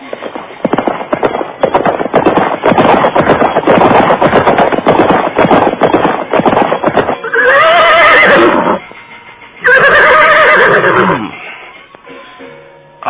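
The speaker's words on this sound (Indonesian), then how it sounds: "Namun Kuda Parasuta semakin kencang memacu kudanya." A horse neighs loudly twice in quick succession while being spurred to a gallop, over a dense, steady rumble of rapid hoofbeats and motion that fills the scene, with no voices.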